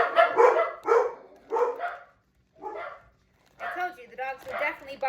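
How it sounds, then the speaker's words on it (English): Dogs barking indoors, a run of sharp, close barks and yips in uneven clusters with short pauses between. "dogs will definitely bark sometime."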